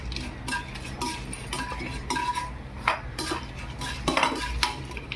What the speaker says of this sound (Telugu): కొంచెం పచ్చిశనగపప్పు, మినపప్పు, ఆవాలు, జీలకర్ర, 2 ఎండుమిరపకాయలు ఇవి బాగా వేగనివ్వాలి